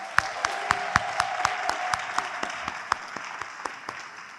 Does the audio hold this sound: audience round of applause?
yes